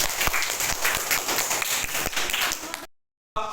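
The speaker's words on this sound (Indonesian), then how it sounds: "Iya, itu ya, kita kasih aplaus dulu." Classroom applause from a group of students, a steady burst of many hands clapping close up for nearly three seconds, then breaking off into silence before a brief tonal sound.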